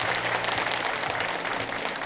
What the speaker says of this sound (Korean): 축하의 박수 다시 한 번 더 부탁드리겠습니다